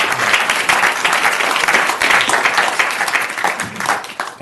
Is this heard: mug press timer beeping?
no